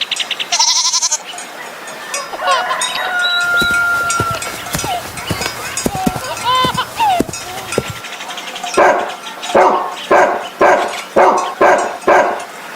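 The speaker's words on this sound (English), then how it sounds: "dog," A dog on a country farm barks in a quick run of loud, sharp, evenly spaced barks near the end, after a stretch of mixed farm-animal calls and a brief goat-like bleat at the start.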